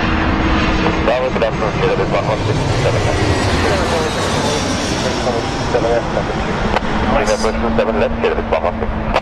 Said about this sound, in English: British Airways Airbus 320 right there for you guys.